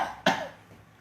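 A single sharp cough from a female patient whose larynx is being anesthetized during a medical procedure, close and loud, then a faint tail.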